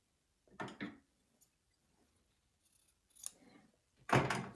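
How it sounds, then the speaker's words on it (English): Scissors snipping through excess bias tape on a sewing project, a few short crisp cuts separated by pauses, close and clear in a quiet room. "So let's cut off the excess bias tape"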